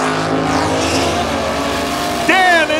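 A Chevrolet Corvette revs hard in a car-versus-motorcycle race, a loud sustained engine drone with tire squeal near the end, under steady background talk.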